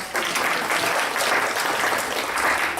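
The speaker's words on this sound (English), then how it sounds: "Let's give her a round of applause" Steady applause from an audience at a District 5 community meeting, a dense, even wash of many hands clapping at moderate distance, continuous for a few seconds with no voices on top.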